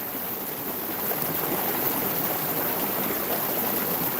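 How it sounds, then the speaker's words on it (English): Steady running water at a water remediation park, a continuous broadband rush that holds even and fairly close throughout with no voices over it. "Running water has a lot of positive energy, absolutely."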